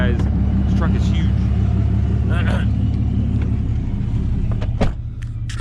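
A huge pickup truck rumbles loudly and steadily at close range, its low engine drone continuous throughout with brief higher bursts on top, at a car meet.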